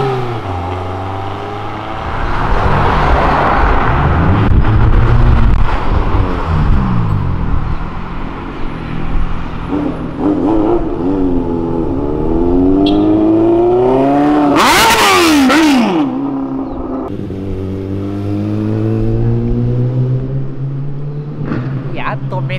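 A motorcycle engine roars and revs repeatedly, pitch rising and falling through throttle bursts, with a sharp loud burst midway and people talking over it.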